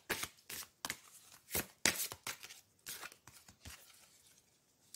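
Tarot cards being shuffled for a love reading: a string of quick papery riffles and flicks in uneven bursts, close and fairly soft, with no voices.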